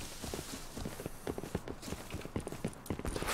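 Horse hooves clip-clop in the video game Rust, a quick, faint run of regular hoofbeats with no talk over it.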